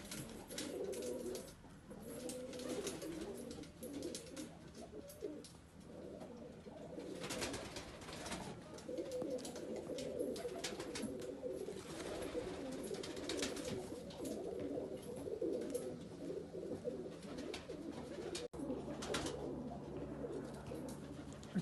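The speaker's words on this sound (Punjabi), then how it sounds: "ਨੀਲਾ ਕਬੂਤਰਾ ਅਤੇ ਕਬੂਤਰੀ" Domestic pigeons, a blue male and a copper-coloured female among others, coo steadily in soft repeated throaty rolls that overlap throughout, fairly quiet and close, with faint background noise.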